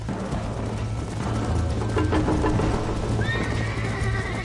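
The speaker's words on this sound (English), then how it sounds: "I think you chose the wrong horse, Miss McFarland." A horse in Red Dead Redemption gallops with steady rapid hoofbeats and neighs near the end, heard fairly close with no talk over it.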